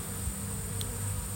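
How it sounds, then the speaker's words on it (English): Honey bees at the entrance of a five-frame nuc hive buzz in a faint, steady drone with a continuous hum, close to the microphone and unbroken by voices. "The guard bees keeping the bees that don't belong in here out"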